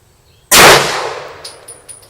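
A single sharp gunshot from an HK P30L pistol at a shooting range, loud and close, with a quick decaying tail and faint metallic pings afterward.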